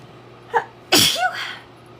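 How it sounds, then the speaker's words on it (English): One loud, close human sneeze sounds with a quick intake of breath just before it, then a short fading tail in an otherwise quiet room. "I'm going to sneeze."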